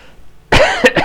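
A couple of harsh, close coughs in quick succession after a brief quiet moment.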